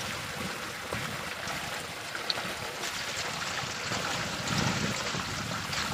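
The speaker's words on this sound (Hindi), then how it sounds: "अभी जी मैं नहा रहा हूँ तो पानी बहुत ठंडा है जी" Cold water pours and splashes as a man bathes outdoors in a village in summer, a steady rushing flow with irregular splashes nearby, moderately loud.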